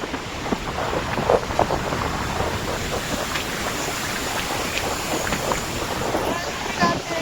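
Open sea and strong wind at Arnala beach, a steady gusty rumble of wind buffeting the microphone over the wash of waves, with people talking through it.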